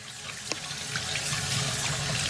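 Steady hiss of tap water pouring into a sink while an old bar of soap, about fifty years old, is rinsed under it, continuous and close with a faint knock near the start.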